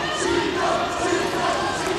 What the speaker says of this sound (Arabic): سمعتي حتى الجمهور كيطلب طالب.